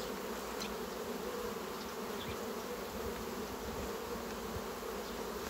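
A continuous swarm-like hum of honey bees at the hive entrance while oxalic acid and glycerin strips are in use, steady and fairly soft with occasional nearer fly-bys.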